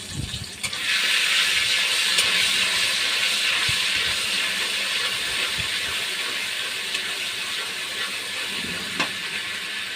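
Cumin paste hits hot oil in a pan, setting off a loud, steady sizzle that carries on for about ten seconds with no talk.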